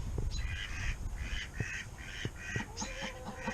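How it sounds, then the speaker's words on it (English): Several ducks quacking nearby in a repeated, rhythmic series of nasal calls, with a few other bird squawks mixed in. "there's the duckies"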